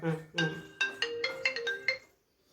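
A phone plays a melodic ringtone at home, a series of bright repeating tones at moderate volume that fade out after a few seconds.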